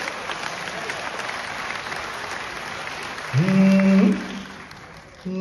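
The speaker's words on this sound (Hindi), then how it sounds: "एक बार सारे लोग हाथ से मैं तालियां बजाओ" An audience in a Jaipur auditorium at a comedy show claps in a steady, moderate wash, joined midway by a loud sustained tone before the applause fades out.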